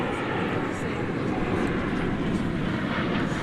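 An airplane roars steadily at DFW Airport, a broad continuous engine rush with no clear rise or fall, fairly loud and filling the whole stretch.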